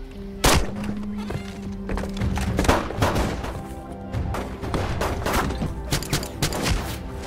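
A gunfire shootout erupts as attackers raid a cowboy's ranch, loud sharp shots cracking in an irregular barrage over a dense rumbling din, with what sounds like horses whinnying in the chaos.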